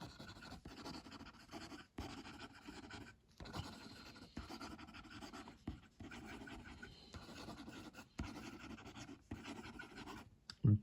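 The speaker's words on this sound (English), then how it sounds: "Quick writing." A Vazir Sport round top fountain pen nib scratching quickly across paper, a faint, close, continuous rasping broken by short lifts between strokes.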